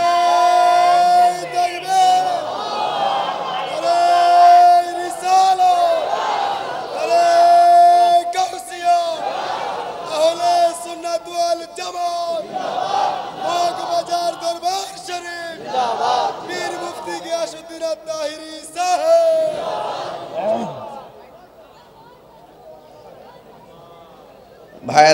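A large crowd at a religious sermon shouts a slogan in loud, rhythmic unison, with repeated surging chants and cries over nearly the whole stretch. It fades to near quiet at the end.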